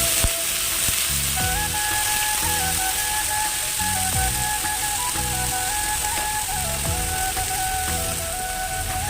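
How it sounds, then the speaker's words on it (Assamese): Red sorrel peels simmer into jam in a pan and are stirred, with a steady wet sizzle and bubbling under repeated scraping strokes, close and continuous for about nine seconds with no talking. "এতিয়া এনেকৈ লৰাই থাকিম অকণমান সময়।"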